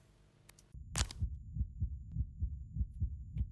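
A video game heartbeat thumps low and steady, about eight regular beats after a brief burst of noise, close and muffled.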